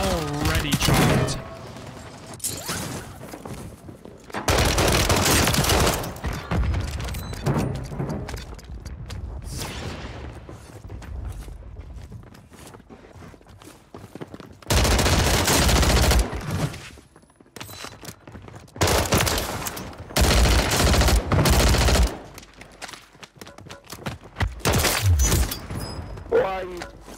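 MP5 submachine gun fire in the video game Warzone 3, with several long, loud bursts of rapid shots and booms separated by quieter stretches, a voice talking over parts of it.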